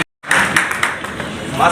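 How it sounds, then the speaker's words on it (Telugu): An audience at a hotel and allied industries welfare association meeting claps for building fund donors, a short burst of dense, close clapping that starts abruptly after a brief silence. "సమావేశంగా వాళ్ళందరికీ మనం చప్పట్లు"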